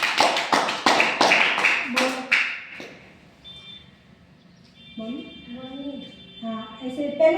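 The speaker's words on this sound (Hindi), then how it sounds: "खड़े हुए तालियां बजाओ उनके लिए" Classroom children clap for a classmate in a quick burst of sharp, rhythmic claps that stops after a few seconds, followed by voices speaking and singing.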